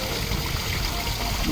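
Water pours steadily from the outlets of a decorative waterfall at a restaurant, a dense, continuous rushing wash that stays close and unbroken throughout.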